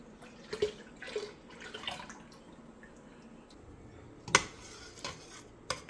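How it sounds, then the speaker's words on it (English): Vanilla yogurt mixture goes back into an Instant Pot with scattered utensil clinks, light scraping and a few sharper metallic taps against the pot, at close range with no talking. "Now we're gonna add all of this back to our Instant Pot"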